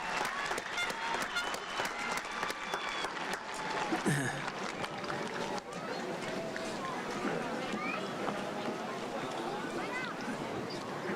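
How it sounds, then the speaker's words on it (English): A crowd applauds at a high school commencement ceremony, with sustained, dense clapping mixed with crowd noise and voices throughout. "One more round of applause for them."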